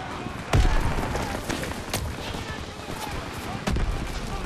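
Call of Duty WW2 battle at the Rhine: sharp gunshot cracks and scattered rifle fire in a busy firefight, with a loud close shot early and another near the end over continuous battle noise.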